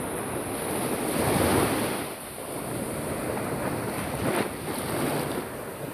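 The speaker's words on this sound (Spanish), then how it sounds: "Y esta es la playa de Salguero." Surf rolls steadily onto the sand at Playa Salguero beach in Santa Marta, a broad continuous wash with swells peaking around two and four seconds, mixed with wind buffeting the microphone, no voices.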